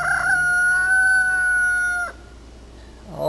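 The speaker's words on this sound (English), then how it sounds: "Always competing with those roosters." A rooster crows close and loud on a rural morning, one long drawn-out call lasting about two seconds, followed by the start of another crow.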